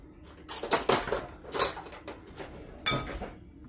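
A spoon clinks and scrapes in a bowl while stirring chunks of beef with corn flour for a stew, with a few separate bursts of clatter and quiet pauses between them.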